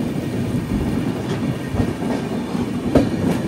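AP Express passenger train running from Visakhapatnam to New Delhi, a steady loud rumble of moving carriages with rhythmic clickety-clack of wheels on rail joints heard from inside.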